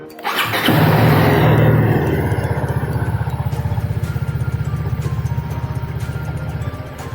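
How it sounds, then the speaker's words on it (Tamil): A TVS Apache RR310 motorcycle engine cranks and catches close by, a brief rev settling into a steady, rapid idle thump that continues to the end. "ஸோ இப்போ அகைன் நான் இன்ஜின் ஆன் பண்ணிவிட்டேன்."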